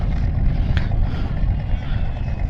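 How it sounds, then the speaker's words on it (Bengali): A motor launch crosses the river from Nandigram toward the Haldia jetty, a low distant engine rumble under steady wind, continuous and even with no voices. "ওই দূরে একটা লঞ্চ আসছে দেখো"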